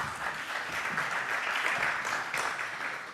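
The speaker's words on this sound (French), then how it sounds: "On l'applaudit, s'il vous plaît." An audience at a start-up innovation round-table applauds steadily as a speaker is introduced, a dense wash of clapping that holds fairly even throughout and eases slightly at the end, with no voices over it.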